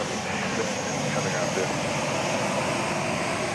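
A Southwest Airlines airliner in a special livery roars on the runway at Dallas Love Field after dark, a steady, broad engine rush that stays loud throughout, with a voice talking over it.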